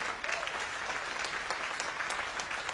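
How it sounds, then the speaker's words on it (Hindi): Steady applause from a crowd fills the whole moment, dense clapping at an even level without pauses. "एक बार जोरदार तालियां पहले ही बजाइए"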